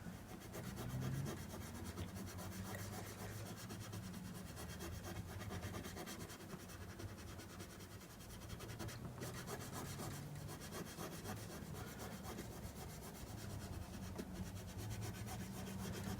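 Steady rubbing of abrasive on guitar frets during a fret job, a continuous close scrubbing rasp with back-and-forth strokes and no voices.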